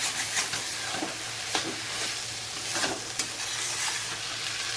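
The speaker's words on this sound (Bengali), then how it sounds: "মুগ ডাল ভাজাটা দেওয়া হলো, দিয়ে একটু নাড়া হচ্ছে।" Fried mung dal being stirred in a pan, giving a steady close sizzle of frying with soft scraping stirs recurring throughout.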